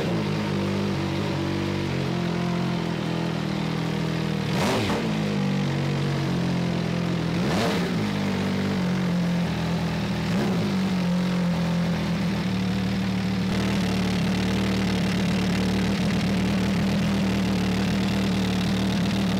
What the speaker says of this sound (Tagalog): So ito yung tunog nung Dragster niya guys.